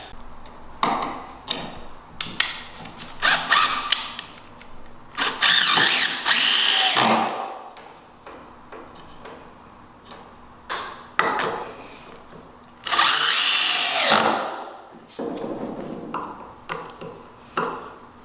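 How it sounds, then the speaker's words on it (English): A power drill drills holes in wood for caster wheels in several short bursts, two of them long and loud, with clicks and handling knocks in the quieter gaps. "right now I'm drilling the holes for the caster wheels"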